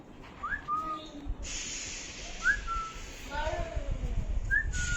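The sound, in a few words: pet parrot whistling on command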